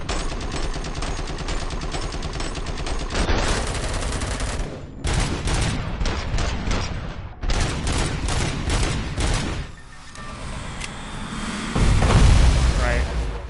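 A gunfire exchange with a heavily armed robot in Robocop: Rogue City, heard as rapid automatic bursts broken by short pauses, with booming hits and a heavier blast near the end.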